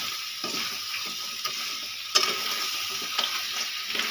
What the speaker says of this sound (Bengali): এবার আমি কাঁকড়াগুলো দিয়ে দেব। দিয়ে অল্প নাড়াচাড়া করে নেব।